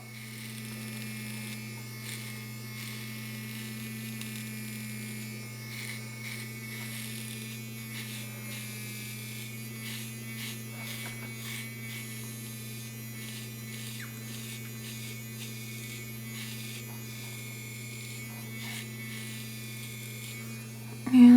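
A Dermaflash Luxe+ dermaplaning device hums steadily against taut facial skin on its low setting, a constant close electric buzz with a faint scraping texture running unbroken throughout.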